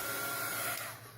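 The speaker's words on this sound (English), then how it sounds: "You're going to hear me using my dryer a lot." Hair dryer blowing steadily close by to dry water-soluble pen ink in an art journal, a broad airy whoosh that fades as it is switched off.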